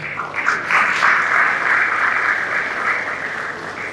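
Sustained audience applause at a summit event fills the full four seconds, a dense, steady wash of many hands clapping with a slight swell near the start.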